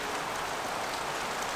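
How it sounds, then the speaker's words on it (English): Steady, dense hiss of heavy rain falling, constant and unbroken throughout, with no voices. "it's pouring rain"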